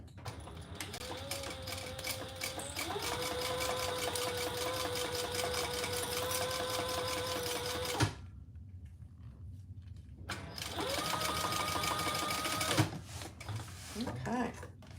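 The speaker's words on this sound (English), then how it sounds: "now let's just top stitch across the top" A sewing machine runs in long steady bursts while top stitching across the top of a Monarch mini clip, with a short pause midway and live talk heard over the motor hum.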